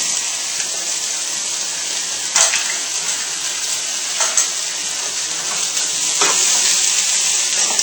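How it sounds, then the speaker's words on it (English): Eggplant is stir-fried in a wok, producing a loud, close, bright sizzle with several sharp bursts as pieces are stirred and tossed. "put them now in with my eggplant into the wok"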